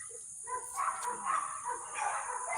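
Dogs in a back yard bark and yip faintly in the distance, a few scattered, muffled barks rising and falling over quiet outdoor background.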